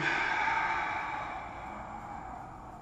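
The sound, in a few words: deep exhale during karate stretching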